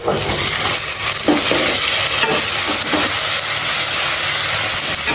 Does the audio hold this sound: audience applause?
no